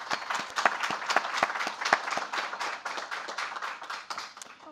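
An audience applauds after a conservation talk, steady clapping from a room full of people, close and fairly loud, with no voices over it.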